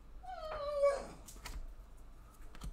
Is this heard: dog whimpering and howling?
yes